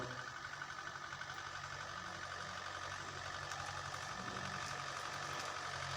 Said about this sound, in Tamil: இன்ஜின் சவுண்ட்லாம் பாருங்கள் சூப்பராக இருக்கும்.